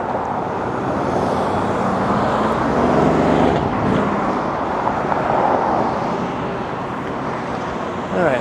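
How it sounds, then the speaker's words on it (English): Dense road traffic rumbles steadily along Islington Avenue in Toronto, with cars passing close by in a continuous wash of engine and tire noise and no clear speech. "Crazy traffic here on Islington Avenue."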